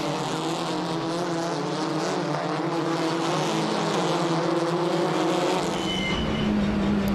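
TCR touring race cars racing at the Korea round, loud close engine roar from several cars at high revs, with the pitch climbing and shifting as they pass and a commentator talking over the top.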